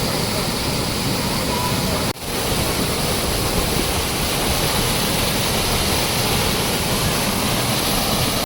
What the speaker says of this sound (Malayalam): വട്ടായി വെള്ളച്ചാട്ടത്തിലേക്ക് നമ്മൾ ഇറങ്ങാൻ പോവാണ്.